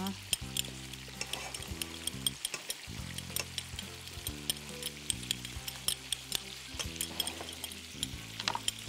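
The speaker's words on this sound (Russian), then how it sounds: "Креветки мы жарим гуманно." Shrimp frying in a pan sizzle steadily and close, with crackling and pops throughout, along with occasional clinks of stirring utensils.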